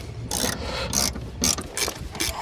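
A hand ratchet clicks in several short bursts while tightening thermostat housing bolts on a Chrysler 2.4L World Engine, close and crisp with brief pauses between strokes.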